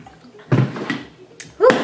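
Gulping water from a Phorm hydrator jug, with a few close wet swallows and sloshes in quick succession followed by a breathy exhale.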